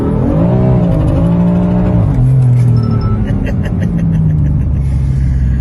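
A BMW M3 accelerates hard in Belgium, its engine rising through the revs with a loud, close roar, shifting gears and pulling again, alone with no talk.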